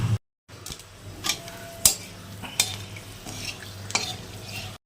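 Dried red chillies tempering in hot oil topped up after frying potatoes: a low sizzle punctuated by sharp scraping and stirring knocks against the pan, close and fairly quiet, with no voices.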